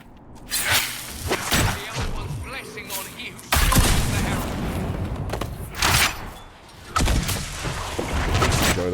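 Bombs exploding in Dragon Age Inquisition, in the Emprise du Lion: several heavy booming blasts in irregular succession, loud and close, each followed by rumbling debris over continuous battle noise.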